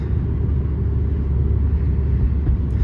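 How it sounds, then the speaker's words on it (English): BMW E92 V8 engine, a loud, steady low rumble heard from close by, continuous and deep, with no talk. "And it sounds good, you know, it has the V8."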